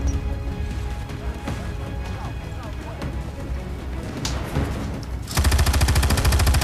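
Rapid gunfire from the PS3 game Battleship, dense bursts and clattering impacts layered over game music and effects, swelling into a louder, steady rattling stream of shots near the end.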